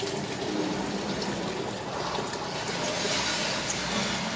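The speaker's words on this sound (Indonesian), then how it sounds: "jadi saya mau tumpahkan seperti ini ya, pelan-pelan saja" Water is poured slowly out of a container in a steady, close, gushing trickle that continues evenly for about four seconds, with no talking over it.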